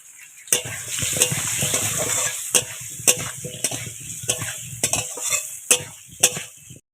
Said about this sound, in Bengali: আলুগুলো ভাজা হয়ে গেছে